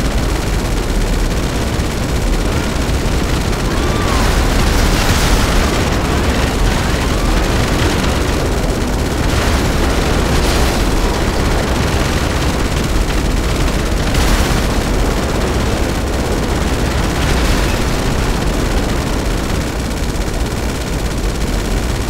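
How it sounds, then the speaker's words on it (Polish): Explosive cannon on a Hydra jet fires in GTA Online, bursts of booming blasts over a constant roaring jet-engine drone, loud and continuous throughout. "bo tutaj mamy to takie działko wybuchowe"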